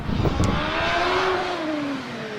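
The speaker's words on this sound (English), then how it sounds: "Graham in the Gould GR 59J with the new small Judd V8 4-litre" A Gould GR 59J hillclimb car with a small 4-litre Judd V8 accelerates hard at Harewood, its loud engine note rising steadily through the gears, near and clear with no talk over it.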